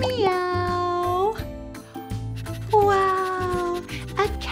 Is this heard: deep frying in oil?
no